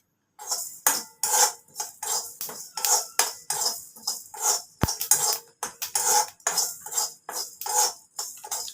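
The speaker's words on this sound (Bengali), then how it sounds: "পাঁচ ফোড়নটা একটু শুকনো খোলায় ভেজে নিচ্ছি।" Panch phoron spices being dry-roasted in a dry pan without oil, stirred with a utensil that makes a steady run of rhythmic scraping and clinking strokes, close and fairly quiet, with one sharp knock partway through.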